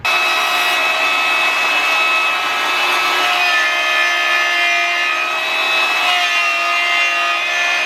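A saw fitted with a carbide blade rips steadily through a wooden block, producing a continuous, loud, high-pitched whine with a gritty cutting edge that holds for several seconds without pause.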